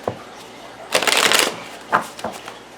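A Clover Tarot deck being shuffled, a close, loud riffle of cards lasting about half a second, followed by a few shorter flicks and taps.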